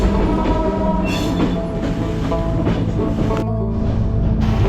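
A passenger train on the Jessore to Sirajganj route rumbles along, heard from inside the carriage as a loud, steady roar with rattling and faint squeals, no talking.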